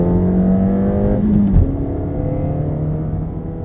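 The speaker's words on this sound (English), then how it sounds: "this vehicle has a sound composer which will pipe engine noise through the firewall directly into the cabin" A 2014 Ford Fiesta ST engine, its sound piped through the firewall into the cabin, revs up in a rising whine, then drops sharply after a gear change and settles into a steady drone.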